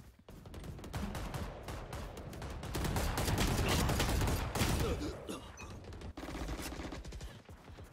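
Bursts of gunfire from a VR shooter game, with rapid automatic fire and repeated shots running through the whole stretch and swelling loudest in the middle.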